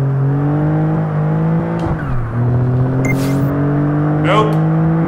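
A race car engine in a racing video game holds a high steady whine, then downshifts with a sudden pitch drop before climbing again, with brief tyre squeals or effects over the top.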